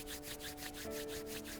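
Palms rubbed briskly together during a yoga session to create warmth, a quiet, close, rhythmic swishing of about ten quick strokes with a faint steady tone beneath.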